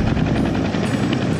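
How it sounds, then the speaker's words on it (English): A helicopter flies directly overhead near a mountain peak, its steady, loud rotor chop and engine roar filling the scene without a break, with no voices present. "There's the helicopter again."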